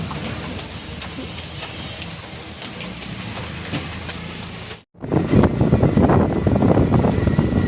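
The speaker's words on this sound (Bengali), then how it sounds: "বৃষ্টিতে ভিজে যাইতেছি" Steady rain patters and hisses without pause, briefly cutting out before returning louder and heavier.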